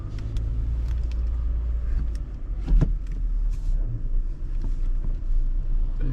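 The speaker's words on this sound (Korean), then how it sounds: "이게 제가 지금 시운전 하고 있는 거거든요" Interior of a used Hyundai Avante CN7 with a manual gearbox on a test drive, with a steady low road and engine rumble, light wind noise and a few soft clicks and thumps from the cabin, heard without talking.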